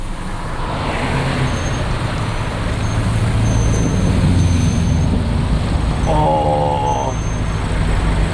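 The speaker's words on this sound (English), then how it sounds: "Are you ready to see an old fire truck?" A 1977 GAZ 53 Soviet fire truck passes on a road amid steady traffic rumble, its engine drone continuous and fairly loud, with a brief tonal whine or brake hiss near the end.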